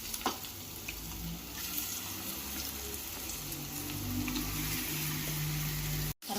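Onions and marinated chicken with turmeric frying in a pan, a steady close sizzle and crackle with occasional stirring clinks, no voices.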